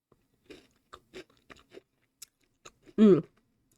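Crunchy bites of a Kinder Bueno mini bar, crisp wafer shell with a sweet filling, chewed close to the mic in a series of short cracks, ending in one louder, fuller crunch.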